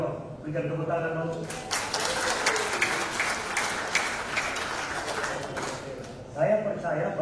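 An audience at a national fellowship gathering breaks into sustained applause, a dense wash of many hands clapping that fills the room for several seconds, with someone speaking into a microphone just before and after it.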